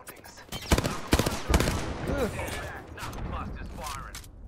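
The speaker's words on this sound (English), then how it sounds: "I'm taking fire" Gunfire in the battle royale shooter Apex Legends: several sharp bursts of rapid shots in quick succession early on, then quieter mechanical clatter and scattered firing, with a voice speaking partway through.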